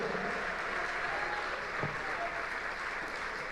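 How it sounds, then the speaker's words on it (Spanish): A church congregation applauds the Lord during a Spanish-language sermon, a steady, fairly distant wash of clapping that holds evenly throughout with no clear speech. "Dale un fuerte aplauso al Señor."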